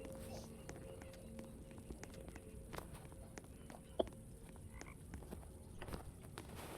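Frogs croaking in the survival game 99 Nights in the Forest, faint and intermittent beneath footsteps and soft forest ambience, with a single sharper click standing out partway through.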